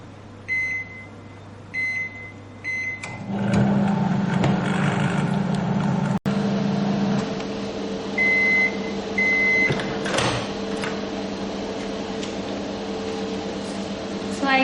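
A microwave oven runs steadily at medium 50% power while oats tomato halwa cooks inside, giving a constant low hum and fan whir, with a few short electronic beeps from the control panel near the start and again partway through.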